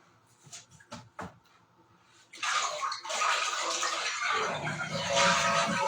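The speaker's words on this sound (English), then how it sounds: "I'm going to flush, and as I flush, I'm going to pour this in." Toilet flushing as liquid is poured into the tank, beginning with a few clunks and handling noises before a loud, sustained rush of water that continues to the end.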